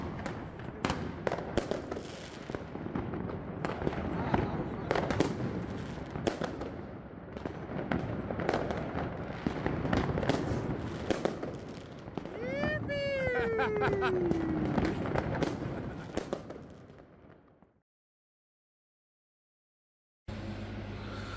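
Dense crackling bursts of fireworks go off continuously for several seconds, with a whistling rocket rising midway, then sudden silence before noise resumes.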